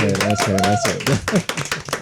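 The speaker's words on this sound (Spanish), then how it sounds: "Un aplauso para Bienvenido, nosotros." Clapping from a crowd under loud voices shouting and calling out, with the applause fading as talking takes over.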